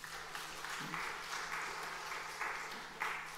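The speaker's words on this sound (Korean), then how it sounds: "박수 한번 쳐드리세요." A church congregation applauds during a Korean church service, a fairly faint, steady wash of clapping that lasts the whole moment with small swells in intensity.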